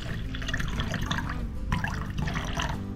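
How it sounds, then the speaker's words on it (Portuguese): Water poured into alcohol to make a medicinal plant tincture, a continuous liquid trickle and splash running steadily with no talk. "Eu vou completar com as 25 ml de água até formar"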